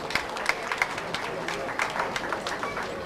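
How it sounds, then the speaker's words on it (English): A crowd at an Ihiala community association gathering gives a traditional round of applause for an honored man, clapping steadily but fairly quietly, with people talking over it throughout. "let us give him a traditional round of applause."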